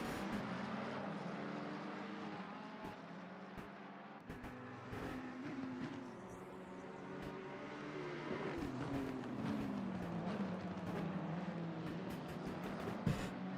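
Race cars lapping the Zolder circuit in Assetto Corsa Competizione, engines droning steadily with rising and falling pitch as leaders close on and pass lapped traffic, several cars audible together.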